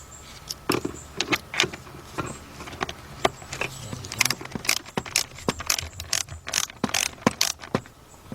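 A ratchet tightens a bolt during a timing belt repair, giving rapid, close clicking bursts with short pauses and a few heavier metallic clacks, with no talking.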